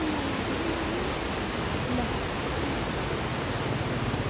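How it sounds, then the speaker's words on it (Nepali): Waterfalls near the Sundari hydropower station pour with a steady, dense roar of rushing water that fills the scene continuously and loudly, with no break for the whole stretch. "हाम्रो सुन्दर झरनाहरू कति झरिराखेको"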